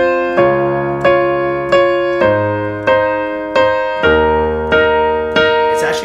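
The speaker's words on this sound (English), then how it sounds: "It has a wonderful introduction on the piano." Solo piano plays the introduction to John Legend's All of Me: steady repeated chords struck about every two-thirds of a second, each ringing and decaying over sustained low bass notes, loud and close.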